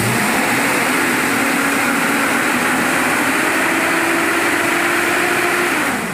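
Suzuki Jimny Katana engine held at raised revs, a loud close steady drone with a slight rise in pitch that holds and then eases off near the end, with no talking.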